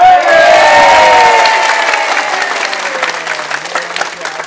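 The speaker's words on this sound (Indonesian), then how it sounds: "Agar aku tepuk tangan untuk geng iki" Audience applause for the performers of an angkringan comedy show, with a dense, loud wash of clapping and some crowd noise and cheering that slowly thins out and fades over several seconds.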